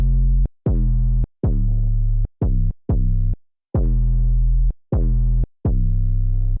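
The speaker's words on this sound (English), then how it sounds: "It's just a sine wave with a bunch of distortion." Buzzy, harsh synth tones from a heavily distorted sine wave, in short repeated bursts of varying length, each starting abruptly and cutting off, with brief silences between.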